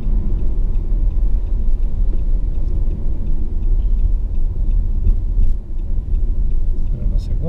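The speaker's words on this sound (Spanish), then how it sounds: "Ya vienen los carros." Cars rumble past on a road beside a BMX track in Colombia, a steady low traffic roar filling the whole stretch with a brief rise near the end, while people talk over it.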